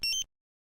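A Dräger X-am 2500 gas detector sounds its A2 main alarm, a shrill two-part electronic beep, then a short silence before the next tone begins.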